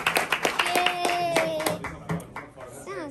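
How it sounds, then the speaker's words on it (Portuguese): Clapping for a young man at a Brazilian funk MC gathering, sharp hand claps in a brisk burst over the first two seconds, mixed with cheers and talk, then fading as voices take over. "Palmas pro moleque."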